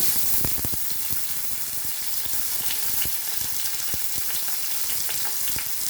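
Onion and tomatoes fry in half a tablespoon of coconut oil for a Goan ridge gourd bhaji, giving a steady close sizzle with occasional clicks and stirring scrapes throughout, and no talking.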